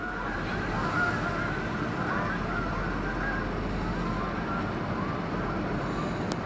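Geese flying over honk faintly in the distance over a steady background hum, their calls blending into the outdoor ambience.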